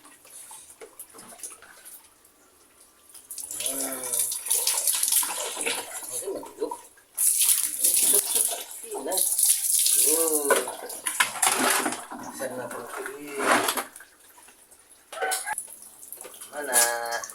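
Water runs steadily into a bath for a small child, a continuous splashing flow with a voice and an adult talking over it at times.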